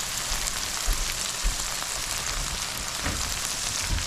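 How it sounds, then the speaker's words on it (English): Onion, scallions and pepper fry in a pan, giving a steady close hiss and crackle with a few soft bumps and stirs throughout. "this fry up a little bit here. The onion, scallions, and pepper."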